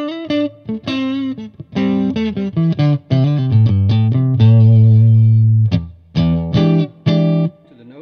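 Guitar played through the EF86 channel of a Bad Cat Cub 40R USA Player Series amp, a close, loud, slightly hairy driven tone with choppy chords and single-note runs, a long held note midway, no talking.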